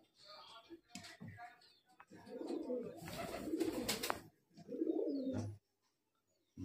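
High-flying Kalshira, Teddy or Murshidabadi Giribaz pigeons, a male and a female, coo close by in several throaty, rolling bursts separated by short pauses, with faint ticking around them.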